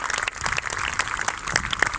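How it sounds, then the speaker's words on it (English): An outdoor audience claps after the evening bird show at Warwick Castle, a dense, steady patter of many hands held at moderate loudness with no talk. "let's give all the birds a really big round of applause"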